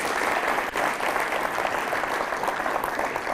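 A seated audience at a classical music forum applauds to greet the conductor as he bows, a short burst of dense, even clapping that stays loud throughout.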